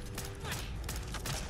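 Gunfire from a Fallout 4 firefight, several sharp shots in quick succession over a dense game soundscape, the last landing as a headshot, with no talk over it.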